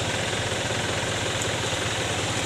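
A 2015 Isuzu ELF NKR 55 long truck with an Adiputro body idles, its diesel engine giving a steady, even low rumble with a fine rhythmic knock, close and continuous throughout with no talk.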